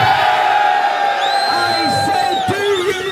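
A rally crowd cheers and whoops loudly in unison, a dense sustained roar of many voices close by with individual yells rising out of it.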